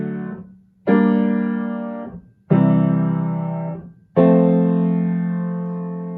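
Piano broken chords from a film theme, played higher up on the keyboard: three clear, close chords, each struck and left to ring and fade in turn.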